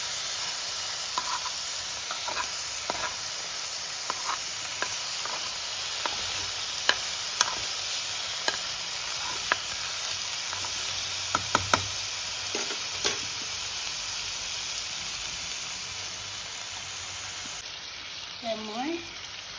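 Garlic and ginger paste fries in a hot pan, a steady sizzle broken by the sharp scrape and clack of stirring at close range.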